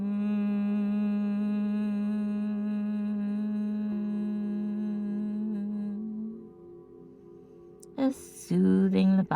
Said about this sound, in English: you're going to do that again with your lips closed for a Bhramari breath